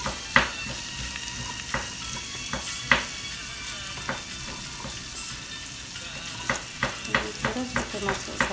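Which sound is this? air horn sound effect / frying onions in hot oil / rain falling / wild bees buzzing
frying onions in hot oil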